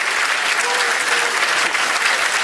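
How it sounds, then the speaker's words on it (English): Dense, steady applause fills the room at an awards dinner, many hands clapping at once, loud and close without a break, with no speech on top. "Give it up for them. Round of applause."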